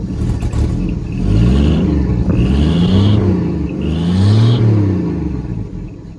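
A classic Chevy engine runs close by after sitting through a cold winter, rumbling at idle and rising in two smooth rev swells before settling back.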